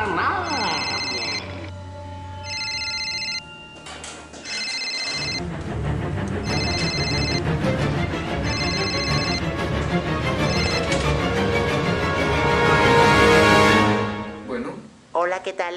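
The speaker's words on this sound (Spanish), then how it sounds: "el teléfono suena y no contesta nada" A telephone rings in repeated electronic bursts, then the rings give way to loud background noise and voices.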